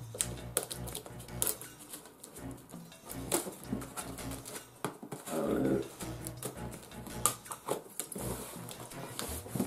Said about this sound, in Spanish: vamos a cortar un poquito por aquí.